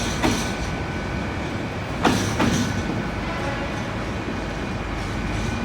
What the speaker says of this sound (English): Don't often see a freight train going through platform 1.